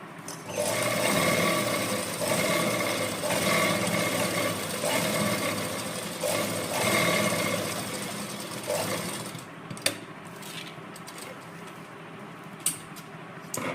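A sewing machine stitches a dress yoke with a steady, fast mechanical whir that runs close and continuous for most of the clip, then stops, leaving only a couple of small clicks.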